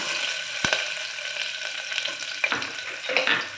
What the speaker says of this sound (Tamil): அடுப்பை சிம்மில் வச்சு நல்லா வதக்கிக்கலாம் இஞ்சி பூடு நல்லா செவந்துருச்சு